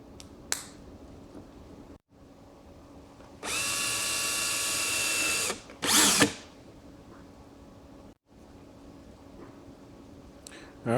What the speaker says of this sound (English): I'm actually going to drill a hole right in the middle and put a screw in there